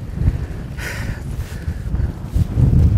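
Strong winter wind during sea fishing for black sea bream buffets the microphone in loud, rumbling gusts that rise and fall continuously, with a brief whooshing swell partway through.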